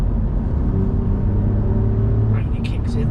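An Alfa Romeo Quadrifoglio's exhaust drones steadily as the car accelerates, a low, continuous engine rumble heard from inside the cabin beneath a person talking.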